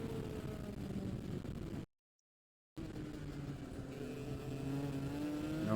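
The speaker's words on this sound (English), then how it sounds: "we hear now the sound of an engine" An X30 kart engine roars continuously on track, its pitch climbing steadily through a revving run toward a corner, broken once by a brief dropout of total silence before the loud, droning note resumes.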